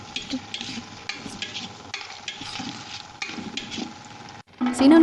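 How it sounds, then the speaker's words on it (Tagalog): Kikiam and squid balls fry in hot oil in a pan for a lomi dish, giving a steady close sizzle with stirring scrapes and a louder burst of crackle near the end. "Pinirito ko muna yung kikiam."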